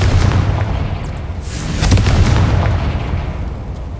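Confringo blasting spell from Hogwarts Legacy, during a Theophilus Harlow boss fight, exploding in a heavy, rumbling low-end boom with crackling bursts, sustained and loud for about four seconds.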